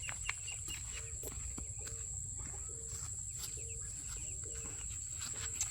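Soft, scattered clucking from chickens in the distance over a steady bed of insect buzz and low outdoor hum.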